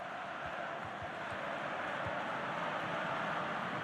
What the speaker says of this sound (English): I think even the opposition are applauding that one